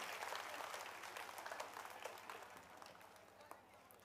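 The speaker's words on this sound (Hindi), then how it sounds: "कृपया जोरदार तालियों के साथ उनका धन्यवाद करें।" Sustained applause from a crowd, dense, steady clapping that continues throughout and fades slightly toward the end.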